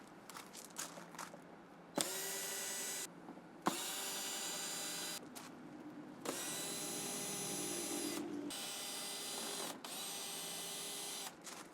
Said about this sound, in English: Alright, so I'm going to start by removing all the screws around this cover.